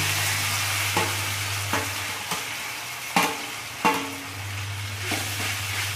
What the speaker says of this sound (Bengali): তারপরে অনবরত নেড়ে নেড়ে এটাকে কষাতে হবে।